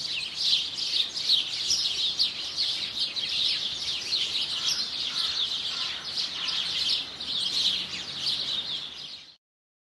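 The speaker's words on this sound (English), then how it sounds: "You're going to attract so many birds with the suet." Wild birds chirp steadily around a suet feeder, a dense chorus of high tweets and calls overlapping continuously at moderate loudness, close by, with no talking.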